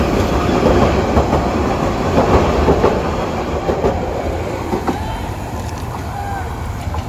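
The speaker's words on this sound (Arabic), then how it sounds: "القطار هذا قطار عفش" A freight train rolls through Feni railway station in Bangladesh, a loud continuous rumble with rhythmic clickety-clack of wagon wheels over rail joints, close by and steady throughout.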